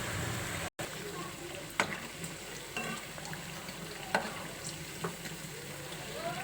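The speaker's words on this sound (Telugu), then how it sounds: "ఇట్లనే అన్నీ తిప్పుకుంటూ కాలనీయాలి." Aloo poha cutlets fry in hot oil with a soft, steady sizzle and occasional faint pops and clinks, fairly quiet throughout.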